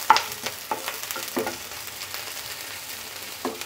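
Slit green chillies frying in oil with dried fish and taro stolons in a Bengali-style pan, a soft steady sizzle broken by several sharp scrapes and stirs of a spatula, with no talking.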